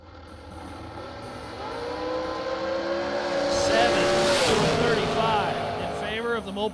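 A Mopar-powered drag racing car launches down the strip, its engine note rising in a long climbing wail that swells loudest midway, with a crowd murmur, a commentator talking and a faint tire squeal.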